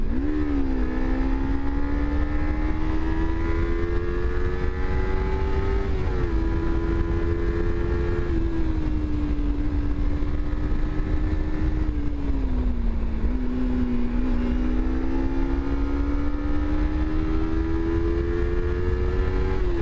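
A Kawasaki Z300 motorcycle engine runs continuously up close, its pitch rising and dipping as it revs up and down over a steady rumble.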